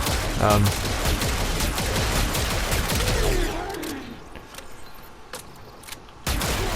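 The Arca Plasmor weapon in Warframe fires a burst of loud, rapid shots in the opening seconds, with a descending whooshing tail, then quieter sporadic clicks and a sharp final hit.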